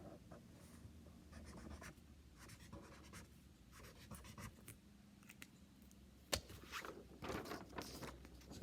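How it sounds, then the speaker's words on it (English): A marker or pen squeaks and scratches across a drawing surface in short strokes and bursts while the sun, moon and stars are drawn, quiet and close with pauses between strokes. "That one's easy to draw."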